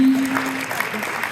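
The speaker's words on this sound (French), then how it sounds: "Bravo, on peut applaudir." Applause from an audience at a mayor's New Year greetings ceremony, a dense, even wash of clapping heard alone and fairly loud, easing slightly toward the end.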